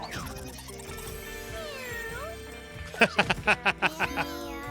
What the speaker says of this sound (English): Look at that cat.